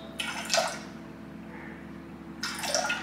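Milk and a splash of vinegar are poured into a cup for homemade buttermilk in a kitchen, two short liquid pours with a quiet pause between them, close by and without talk.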